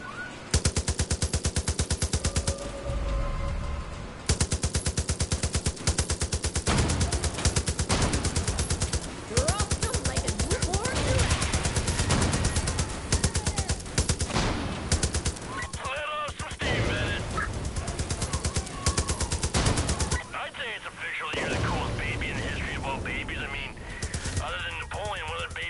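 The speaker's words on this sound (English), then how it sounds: "At least I have a turret." Rapid turret gunfire in the post-apocalyptic shooter Far Cry New Dawn, loud dense bursts repeating over most of the stretch with brief pauses, voices talking underneath.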